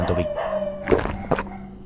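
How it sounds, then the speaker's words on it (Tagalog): A drawn-out dog howl in a horror video game set in a scary apartment rises and wavers over about two seconds, mixed with a faint voice and background noise. "Ingay talaga ng aso dito ba?"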